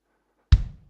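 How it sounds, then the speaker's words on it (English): A single drum hit from a programmed pattern of 12 instruments, with a sharp loud attack, deep low thump and bright upper ring that decays over about half a second. "So this is a drum pattern."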